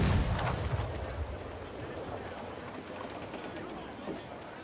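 Ship cannons booming in the Assassin's Creed Black Flag naval battle game, a heavy blast at the start followed by a dense rumbling wash of gunfire, with shouting crew voices mixed in.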